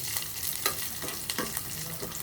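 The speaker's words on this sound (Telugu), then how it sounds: "జీలకర్ర, ఎండుమిర్చి ఇట్లా అన్నీ వేసేసాను. వేయించుకుంటున్నాను." Cumin seeds and dried red chillies fry in hot oil, giving a steady close sizzle broken by several sharp stirring scrapes against the pan, with no voices.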